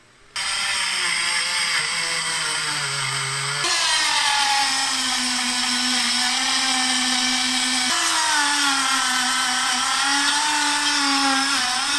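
A power tool polishes a bike frame on a retro trials build, a loud continuous whine held close for the whole stretch, shifting pitch slightly as pressure changes, with no talking.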